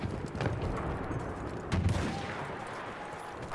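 Battlefield 1 battle gunfire: steady faint rattle of shots and distant explosions under the background, with one louder close shot crack partway through.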